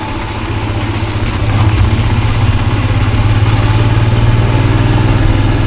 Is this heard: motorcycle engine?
yes